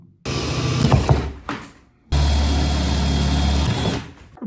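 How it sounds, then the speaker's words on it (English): A power drill bit boring back through a piece of wood from the reverse side, heard as two loud close bursts of whirring cutting, the first uneven and brief, the second steady and sustained. "you flip the wood around and you come back in with the same drill bit and cut it from the back side"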